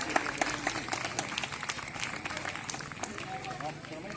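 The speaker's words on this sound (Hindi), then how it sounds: "कम तालियां क्यों बज रही है? बजाइए।" Audience applause at a live Ramlila performance staged by the Navyug Ramlila and Dussehra Committee in Sector 7, Chandigarh, a dense steady wash of many hands clapping with crowd noise mixed in throughout.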